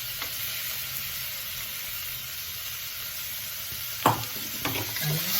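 Cut paneer cubes fry in a pan with a constant hiss of oil, then a few scraping stirs and utensil knocks near the end, with no voice present.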